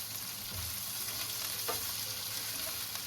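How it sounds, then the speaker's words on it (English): Beef sizzles and crackles steadily in a hot pan after rice wine is added, with occasional scraping as it is stir-fried, close and continuous. "Continue to stir fry briefly to cook off the rice wine."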